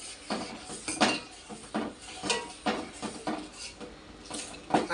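A metal ladle stirs country sugar into jackfruit payasam in a pot, making repeated scraping clinks against the sides at a steady rhythm, close and fairly loud, with no voices.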